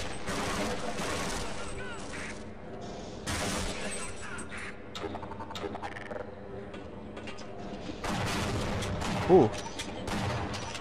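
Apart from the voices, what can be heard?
gunfire from an enemy in the video game Half-Life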